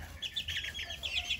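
Aztec miniature chickens cluck in a short, close run of quick, scratchy calls over a faint low background hum.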